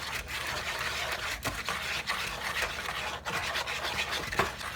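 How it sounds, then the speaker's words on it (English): A whisk stirs flour and salt in a bowl for homemade flatbread, giving a soft, close, continuous scraping swish with small rhythmic taps against the bowl. "I'm just going to take a whisk and mix this up"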